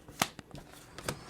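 Tarot or oracle cards being shuffled by hand, a few crisp riffling snaps spread over a second, close and clear against a soft room background.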